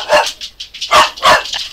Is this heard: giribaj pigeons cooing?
no